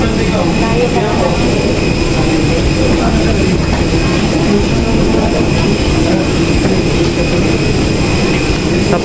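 Airplane jet engines roar in a steady, loud, unbroken drone while passengers board, with voices faintly mixed into the noise.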